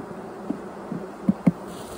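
Honeybees hum steadily around hive colonies outdoors, a constant close buzz with a few brief louder passes as single bees fly near.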